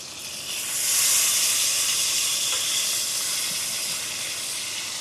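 Meat sears in a hot pan with a loud, steady sizzling hiss that swells after a moment and holds constant, close and unbroken, with no voices.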